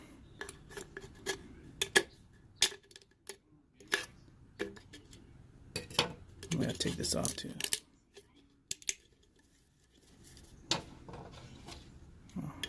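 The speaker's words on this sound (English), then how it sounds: "let's cut this with scissors, and you can use any kind of scissors that should cut the aluminum fairly easy" Scissors cutting through a thin aluminum can, a string of sharp snips and crinkling metal clicks, close and fairly quiet, with brief speech near the start.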